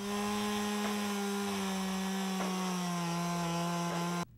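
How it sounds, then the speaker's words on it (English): A steady, loud motorized whine with a strong constant pitch from a chainsaw cutting a wooden fence post runs almost unbroken, then cuts off abruptly at the end. "use a chainsaw to cut them to fit between the vertical posts"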